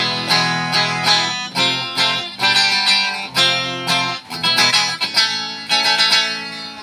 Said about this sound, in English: Here's the sound of my guitar on tone.